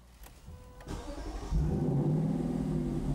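A car engine cranks briefly, then catches and settles into a steady running rumble, close and moderately loud.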